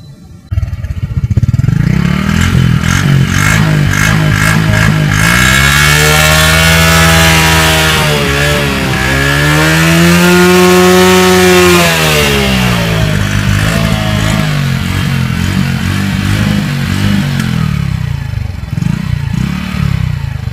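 Honda Wave Alpha 110 motorcycle engine at a dealership, running close and loud with a rattling idle that is revved up and down in two long swells before settling back.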